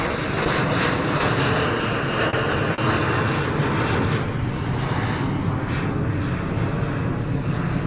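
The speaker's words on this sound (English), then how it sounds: "Very steep climb for the KLM Embraer." A KLM Embraer jet takes off from Bristol Airport in a steep climb, its engines giving a loud, continuous roar heard from nearby that fades gently as the aircraft pulls away.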